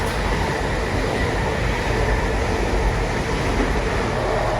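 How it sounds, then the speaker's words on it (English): An LNER Azuma train passing southbound on a line in Northumberland, a loud continuous broadband rumble and roar that holds steady throughout, close by, with no voices. "We've got LNER Azuma heading south, being a little bit quieter than the HST"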